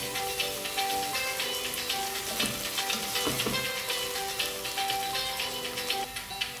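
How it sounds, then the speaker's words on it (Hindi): Turmeric and red chilli powder fry in a pan over a medium flame, giving a steady close sizzle with scattered crackles and occasional scraping stirs throughout, with no talking. "मीडियम फ्लेम पे 1 मिनट मसाले फ्राई करने के बाद"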